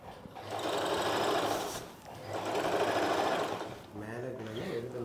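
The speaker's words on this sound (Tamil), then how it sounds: "இப்போ நம்ம பட்டி பீஸ் அடித்தாச்சு." A sewing machine stitches a katori blouse piece in two long, steady whirring runs separated by a short pause, with someone talking quietly underneath.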